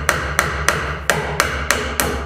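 Seven steady hammer blows on nails going into the wooden frame of an insect hotel, close and crisp at a regular rhythm, with no voices.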